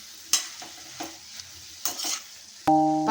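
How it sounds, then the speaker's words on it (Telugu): Green chili paste stirred in a frying pan, with a few scraping strokes over a faint sizzle, then a sharper burst of frying near the end. "ఇలా పచ్చగా వేసుకున్న పేస్ట్ని అయితే ఒకసారి కలిపేసుకుందాం."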